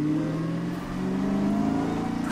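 A Dodge Challenger SRT Demon 170 engine, rated at 981 horsepower, revs and accelerates with a steady, loud, rising drone from inside the car and a brief higher whoosh near the end.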